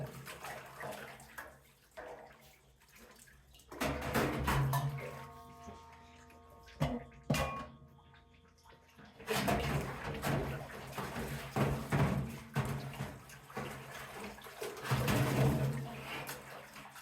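Water runs and splashes over a milking machine strainer in bursts, with pauses and clinks of handling between the rinsing spells, close and moderately loud.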